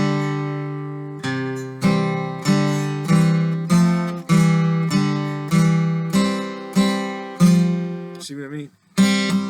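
A picked guitar melody of about a dozen clearly separated notes, each catching a faint extra tone as the pick glances the next string, then a brief quiet stretch at the end.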